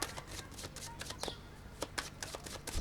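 A tarot deck being shuffled by hand, with rapid bursts of riffling and flicking cards in an uneven rhythm, close and fairly crisp, with no voice over it.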